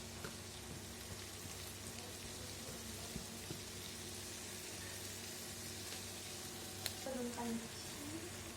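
Chopped capsicum for noodles sizzling in a pan with tomatoes: a faint, even hiss that runs continuously, dotted with small crackles and a few sharper ticks near the end.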